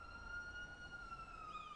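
Police car siren in Grand Theft Auto Online, a steady wailing tone sustained throughout with a slight pitch sweep near the end, moderately distant over low ambient game rumble.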